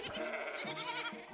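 Several young children's voices imitate sheep with a wavering, drawn-out baa in a preschool lesson, close and fairly soft.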